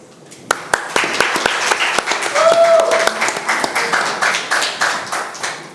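Applause at a panel event on gamified prop trading: a few sharp, separate claps build into a steady patter from a small audience, with talk running underneath.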